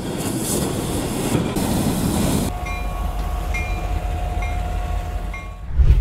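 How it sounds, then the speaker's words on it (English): A train rolls through a rail crossing in the USA, a steady heavy rumble with a brief whistle-like tone, loud and close, with no talk over it. "While waiting for the train to pass, ensure not to park too close to the tracks."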